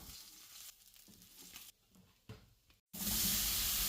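Rui fish pieces fry in hot oil in a kadai for a village-style Bengali fish curry, a close, steady sizzle that dips briefly, cuts out for a moment, then returns as a loud, fierce crackle.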